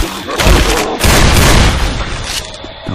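Loud, close gunshots and booming blasts from Left 4 Dead 2 pound through a chaotic firefight, with heavy repeated bursts throughout.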